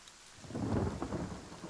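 A magic rain spell in Divinity Original Sin unleashes a short burst of rain with a deep thunder-like rumble, swelling quickly and holding loud for a moment before easing.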